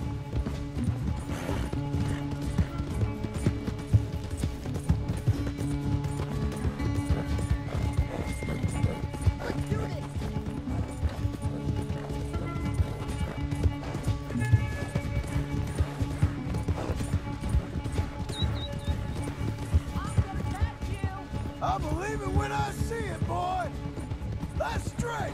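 Horse hooves gallop in fast, steady clip-clop in Red Dead Redemption 2 during a horse riding race, continuous and loud throughout, with occasional whinnies and game speech mixed in.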